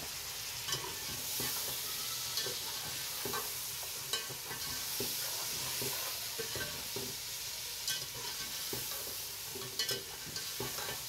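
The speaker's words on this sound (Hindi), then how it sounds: "आलू को भूनूंगी मैं अभी 5 से 10 मिनट।" Diced potatoes fry in a pot with softened tomatoes for aloo pulao, giving a steady close sizzle broken by repeated scraping stirs throughout, with no voices.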